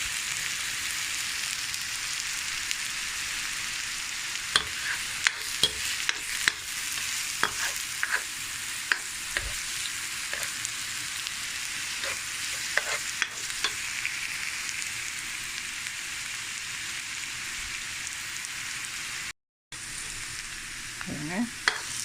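Garlic, ginger, carrot, beans and green chili sauté in hot oil and ghee for vegetable fried rice with prawns: a steady, loud sizzle throughout with occasional stirring scrapes and clicks from the pan, and no talk.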